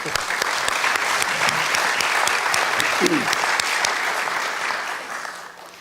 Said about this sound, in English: Would everyone please join me in giving a round of applause to our 2 candidates tonight.